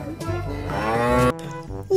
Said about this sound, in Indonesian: Wow, ternyata ini sapi teman-teman.